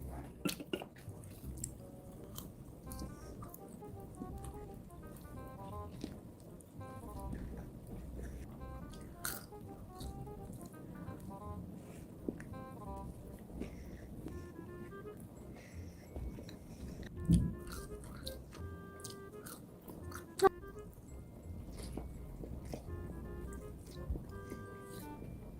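Someone eats a burger with cheese, caramelized onions, lettuce, tomato and barbecue sauce, with soft chewing and squishy bites close up, a couple of sharper clicks, and no talking.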